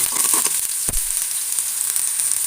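Chopped small shallots sizzle steadily in hot oil in a pan while cooking a spinach curry, a dense continuous frying hiss with a brief stir or scrape near the start, with no talking.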